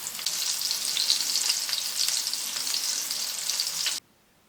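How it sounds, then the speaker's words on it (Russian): Steady, close sizzling of breaded pork cutlets frying in a hot pan, loud and continuous, stopping abruptly near the end. "Обжарим сформированные котлеты на сковороде по 2-3 минуты с каждой стороны до"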